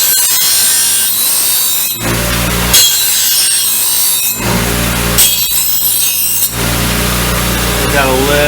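Mower blades being sharpened on a power grinder, a loud continuous abrasive whine in long bursts with brief pauses between passes, with no talk over it.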